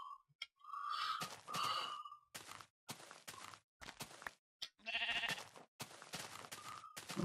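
Sheep bleating in Minecraft's FarLands, several short nasal bleats in quick succession mixed with clicky footstep-like game sounds and brief pauses, close and clear.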